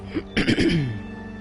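A single rough cough, close and brief, preceded by a small throaty sound, in an otherwise quiet room.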